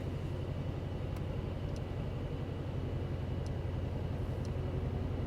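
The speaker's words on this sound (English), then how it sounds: "now let's start the engine. Beautiful sound of this V8" A Mercedes-Maybach SL 680 with a V8 bi-turbo engine runs at a steady idle, its low rumble continuous and close with no talking over it.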